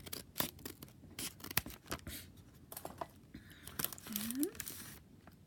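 Scissors snip open a taped mail package, with close crisp cuts, crinkling and tearing of wrapping in uneven bursts, and a brief voice sound near the end.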